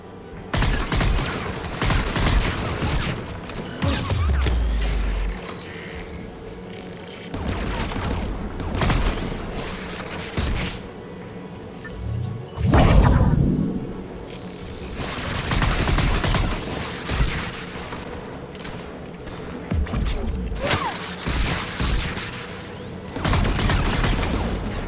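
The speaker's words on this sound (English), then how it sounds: "AA guns, dead ahead." Anti-aircraft guns in Mass Effect 3 fire in heavy repeated volleys, booming bursts spread across a long stretch with short lulls between them, loud and close with rumbling mechanical undertones.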